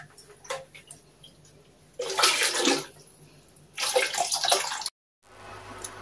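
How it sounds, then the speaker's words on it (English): Water is poured into a blender jug holding red bell peppers for ogbono and okro soup, two distinct splashing pours of about a second each, separated by quiet, close and clear. "I'm going to add some water, little water to it"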